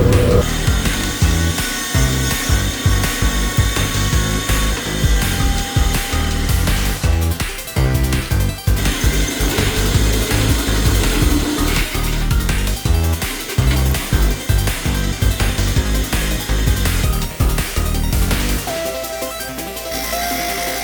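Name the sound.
drilling a large hole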